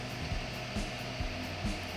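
A small electric fan powered by a Novoo RPS700 portable power station whirs steadily nearby, with a constant broadband hum and faint periodic low thumps.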